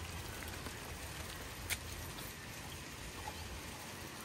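Rain falls steadily on a garden during a harvest of mirchi and mangoes, a soft even patter with an occasional sharper drop, faint and constant.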